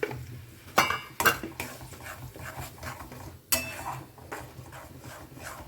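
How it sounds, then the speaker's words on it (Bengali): A spice mixture of Kashmiri chili powder, with yogurt nearby, is stirred in a pan over low heat. A utensil gives close scraping and clinking strokes at an irregular rhythm. "এই মশলাটা নাড়তেই থাকতে হবে।"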